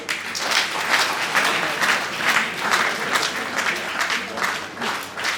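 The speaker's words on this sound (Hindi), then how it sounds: "तालियों में कंजूसी है भाई।" Applause ripples through a village felicitation ceremony in Sasrauli honouring a world-cup-winning shooter, a steady wash of many hands clapping at moderate distance for several seconds, with faint voices mixed in.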